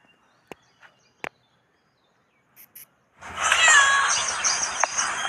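A cat meows near a lakeside spot where people are fishing for pearl spot, a drawn-out wavering call that starts after a few quiet seconds with scattered clicks.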